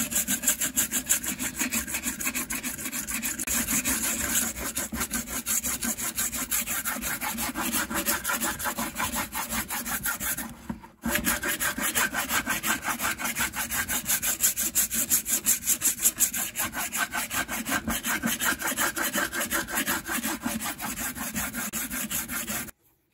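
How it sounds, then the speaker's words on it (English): A hand file rasps steadily back and forth across a fiberglass fuselage being repaired, with dense rhythmic strokes running continuously, one brief pause near the middle, then continuing until a sudden stop. "Next thing I use is a file."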